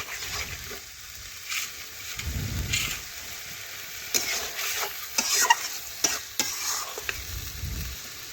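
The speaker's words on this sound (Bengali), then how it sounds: "দেখুন এইভাবে বেশ কিছুক্ষণ ধরে নাড়াচাড়া করতে হবে, তাহলে চিকেনটা ভাজা হয়ে যাবে" Chicken sizzles quietly in a pan while a utensil stirs and scrapes repeatedly, with scattered clacks against the metal; close and fairly soft.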